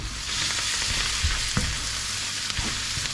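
Chickpea biryani-style mixture with cauliflower, sea samphire and garlic puree stirred in a hot pan, a dense continuous sizzle and hiss with low scraping thumps from the spoon, steady and close, no voices.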